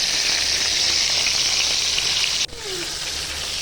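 Chicken legs fry in spiced oil in a pan, a loud, even sizzle running throughout, briefly interrupted by a soft clunk before the steady frying resumes.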